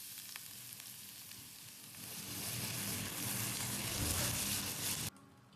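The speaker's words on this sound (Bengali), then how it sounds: "এখন আমি রসুন আর পেঁয়াজটা দিয়ে দিব এই তেলের মধ্যে।" Chopped garlic and onion hit hot oil left from frying sausages for midnight noodles, a loud, dense sizzle that swells and crackles steadily before cutting off abruptly near the end.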